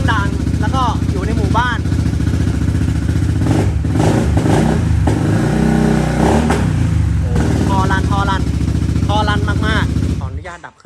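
A 2022 BMW C400GT ABS scooter engine starts and is revved, giving a loud, rising mechanical drone with some clatter up close, while someone talks over it before and after.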